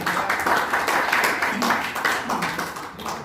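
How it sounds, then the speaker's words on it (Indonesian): An audience gives a conference speaker steady, dense applause that holds at an even level throughout, with a murmur of voices underneath. "Kita kasih aplaus dulu kepada narasumber."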